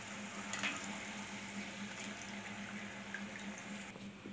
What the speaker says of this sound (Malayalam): നമ്മുടെ ഫ്രഞ്ച് ഫ്രൈസ് ഇതാ റെഡി ആയിക്കൊണ്ടിരിക്കുകയാണ്